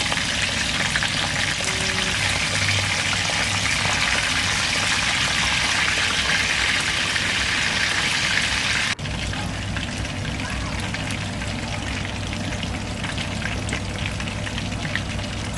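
Fish sizzling steadily in hot oil in a pot for Jamaican brown stew fish, a loud continuous frying hiss; a brief clatter partway through as the pieces are turned over, then the sizzle carries on.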